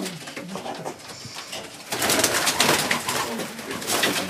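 A Janssen-line racing pigeon coos softly amid rustling and handling noise, with the low cooing growing busier and louder in the second half.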